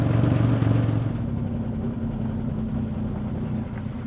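A 1967 Chevrolet Corvair Monza Coupe's engine drones steadily from inside the moving car, a loud low hum with a fairly even rumble throughout.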